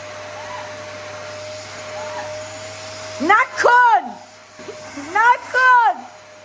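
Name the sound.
vacuum cleaner running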